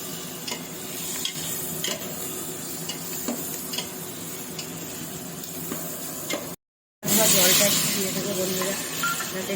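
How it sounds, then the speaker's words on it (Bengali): Spices are stir-fried in a pan with a continuous soft sizzle and repeated stirring scrapes, broken by a brief silence before the sizzle returns louder. "এবার আমি মশলাগুলোকে ভালো করে খুব সুন্দর করে এগুলো এখন কষাবো"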